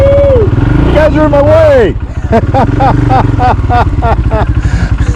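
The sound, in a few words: Royal Enfield Himalayan motorcycle with big bore kit riding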